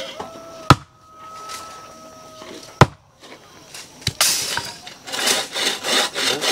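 A hand saw cuts wood outdoors at a site where foundations for a gate are being dug, giving rough rhythmic rasping strokes near the mic, with a few sharp knocks and a faint tone early on.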